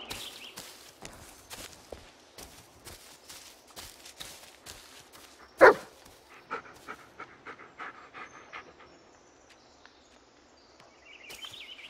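A dog in the Blair Witch video game pants rapidly and rhythmically while its paws patter along, with a sharp louder thump midway before the panting fades and then returns briefly.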